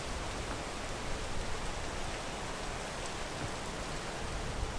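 Steady rain in the climbing video game PEAK hisses evenly throughout, a dense constant downpour with no breaks and no talk.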